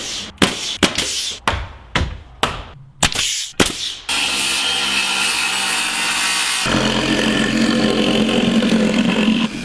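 A hand saw cuts through wooden floor joists in a run of sharp rhythmic strokes, about eight close scrapes. A power saw then takes over with a loud continuous whine that shifts in tone partway through.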